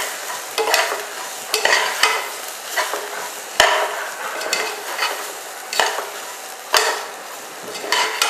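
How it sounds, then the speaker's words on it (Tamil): Wheat rava is stir-fried with vegetables, tomato and onion in a pan, with a soft sizzle under repeated scraping strokes and sharp clacks of a spatula against the pan, close and rhythmic. "இப்போ இந்த கோதுமை ரவாவையும் வெஜிடபிள்ஸு, தக்காளி, ஆனியன்லாம் வதங்கிட்டு இருக்கும்போதே நான் இதோட போட்டு பிரட்டிடுறேன்."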